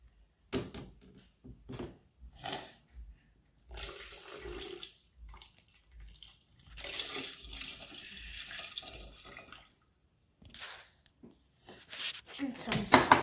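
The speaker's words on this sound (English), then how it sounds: "And some fresh coconut juice. Put it really carefully." Fresh coconut juice is poured carefully into a glass, making bursts of splashing, trickling liquid that start and stop with short pauses, close and moderately loud, with light clinks of a container.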